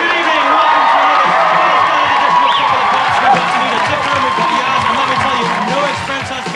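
Television studio audience applause gives a dense, continuous wash of clapping and cheering that fades slightly at the end, with voices talking over it.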